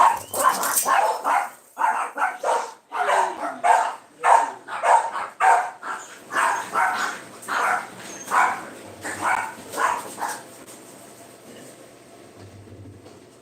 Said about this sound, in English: I gotta let these doggies out real quick.